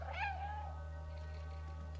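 A cat meows once in the video game Stray, a short clear rising-falling call at the start, followed by a steady low electrical hum with no talking.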